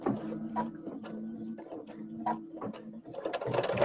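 Embroidery machine stitching a purple section along the bottom of a pineapple quilt block, a rhythmic series of soft mechanical thumps and whirs, close and fairly quiet.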